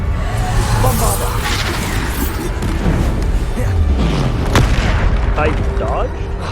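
Spell explosions from Bombarda casting in the Hogwarts Legacy video game, a steady loud barrage of booming blasts and combat effects with a voice shouting spell names over them.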